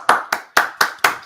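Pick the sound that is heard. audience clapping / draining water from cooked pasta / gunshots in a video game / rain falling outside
audience clapping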